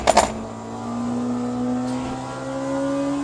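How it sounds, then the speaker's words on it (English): Race car in the Le Mans Ultimate racing game, a steady engine drone rising slowly in pitch, with a brief burst of rattling clatter at the start and a faint click later, close and without talk. "Definitely a bit rattly through the serrations on the curb"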